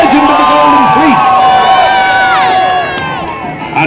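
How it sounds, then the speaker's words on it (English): A crowd cheering and whooping for Jason and the Argonauts at a castle joust at Kenilworth Castle, a loud sustained wash of many voices that fades slightly near the end. "Who here will cheer for the gold of Jason and the Argonauts, the legend of the Golden Fleece?"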